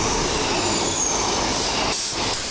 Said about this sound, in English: the first train to show up out of the next two will be a pairing of sprinters